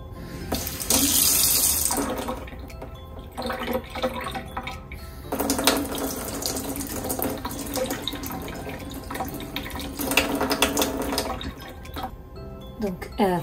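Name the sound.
cold tap water running to prime Berkey water filter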